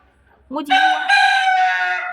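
A pet rooster crows loudly and close by, one long cock-a-doodle-doo following a short cluck, with nothing else heard around it.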